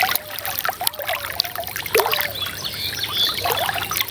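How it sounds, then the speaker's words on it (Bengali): Water runs from an irrigation pump beside a paddy field, a close, uneven splashing and trickling flow with small gurgles and spatters, with no voices. "জলের শব্দ,"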